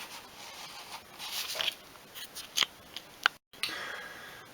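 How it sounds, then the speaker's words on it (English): Scissors slicing through a thin acetate sheet laid over a model aircraft plan, giving a few faint, close, crisp snips and rustles with short pauses between cuts. "and then cut it with some scissors"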